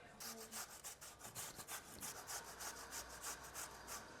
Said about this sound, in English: this is like the most beautiful beetroot, and we're just gonna grate this into the salad